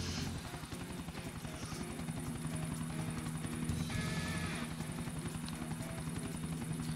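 Helicopter in GTA IV, a steady close rotor thump and engine drone that runs continuously throughout, loud and even.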